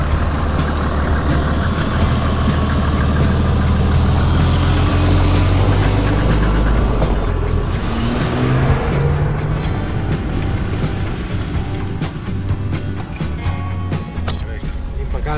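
A Mercedes G-Class with a worn, slipping clutch grinds along off-road, its loud engine droning steadily throughout, with people talking over the noise.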